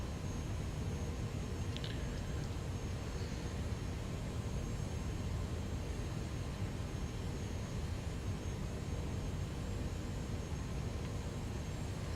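An airliner in Microsoft Flight Simulator 2020 takes off down the runway on a Miami to Orlando flight, its engines producing a constant, loud, roaring drone that holds steady the whole time.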